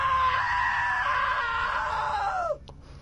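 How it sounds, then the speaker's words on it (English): A woman's sustained, high-pitched scream in the video game What Remains of Edith Finch, loud and close, holding steady for over two seconds before cutting off abruptly into quieter background sound. "Now that was a great scream."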